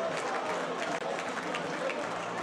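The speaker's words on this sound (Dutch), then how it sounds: "Hij neemt het applaus dankbaar in ontvangst." A football stadium crowd applauds a player's hat-trick in a dense, continuous wash of clapping and crowd noise, with a commentator talking over it.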